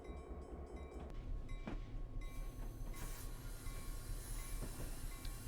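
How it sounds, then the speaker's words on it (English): A train on the NS N Line in Train Simulator 2020 rolls past a road crossing, giving a steady low rumble of wheels and rail noise with a few brief higher squeals over it. "So we'll just go past this crossing here, we'll stop the train"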